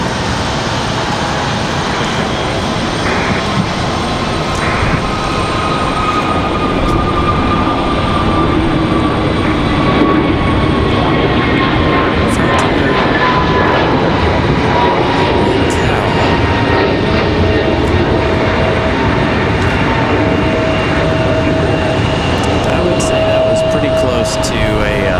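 A Frontier airliner departs from Raleigh-Durham International Airport on a windy day, its jet engine roar loud and steady throughout, with wind noise mixed in.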